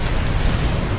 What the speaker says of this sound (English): Uh-oh, explosion.